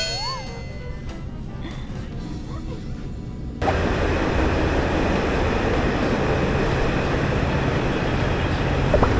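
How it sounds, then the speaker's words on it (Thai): Brief muffled voices and tones give way to a loud, steady rumble of a KiHa 183 diesel train pulling into Chachoengsao railway station in Thailand nearby, continuing without a break. "ถึงแล้วนะคะสถานีรถไฟฉะเชิงเซา"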